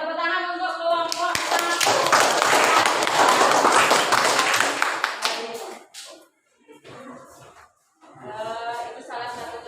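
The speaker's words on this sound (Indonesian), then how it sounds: "tepuk tangan untuk kelompok" Classroom of students applauding a group, a burst of lively clapping after a voice speaks, lasting several seconds before dying out, then talking resumes.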